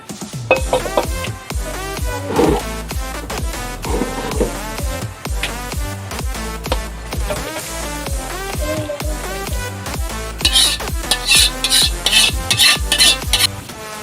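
Cooked creamy chicken made with cream and cream-style corn is scraped and spooned from a pan into a container, with repeated close clinks and stirring scrapes, wet sizzling bits, and a brighter clattering burst toward the end.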